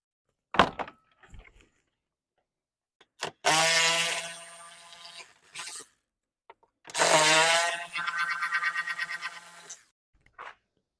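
Two gold 10 mm bolts being undone from the intercooler dummy-plate shroud of a Can-Am Maverick X3: two long, loud ratcheting power-tool bursts, close up, separated by a pause, with a few sharp metallic taps around them.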